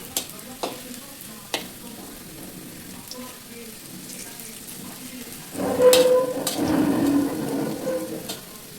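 Onion pakoras frying in hot oil, a soft sizzle with a few sharp clinks early on, then a louder, denser bubbling burst as more batter drops in, continuing steadily to the end.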